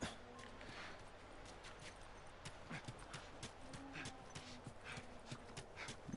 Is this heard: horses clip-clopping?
yes